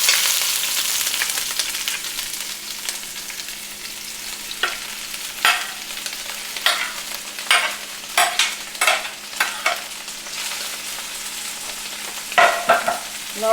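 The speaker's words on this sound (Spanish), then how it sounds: "Y ahora le vamos a poner el pollo." Chicken frying in chipotle sauce in a pan, with a steady sizzle and repeated sharp scraping stirs that grow busier toward the end, close and fairly loud with no talking.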